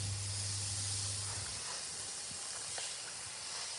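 A continuous close hiss of ceramic coating being sprayed from a bottle onto a car bonnet, with a low hum fading out early.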